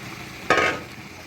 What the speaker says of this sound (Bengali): এখন মিট বলগুলো দিয়ে দিচ্ছি।